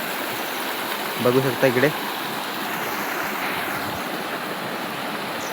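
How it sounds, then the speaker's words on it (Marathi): A full, brimming stream runs through open countryside, its steady rush of water filling the whole scene while someone speaks briefly over it. "पूर्ण ओढा मस्तपैकी भरला आहे"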